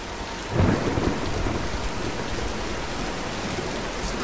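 Steady rain pours down with a deep rumble of thunder swelling early on and rolling off, a continuous stormy wash in the video game Tomb Raider.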